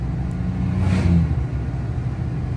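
A learner driver gently presses a car's accelerator, and the engine hum swells into a brief, soft rev before settling back to a low idle rumble.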